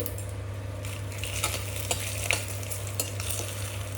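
Bay leaf frying in mustard oil, a steady close sizzle and crackle with a few louder pops and the occasional scrape of a utensil against the pan, with no talking.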